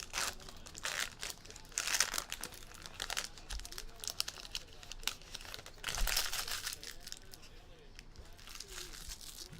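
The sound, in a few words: cutting open and unwrapping a tight trading card pack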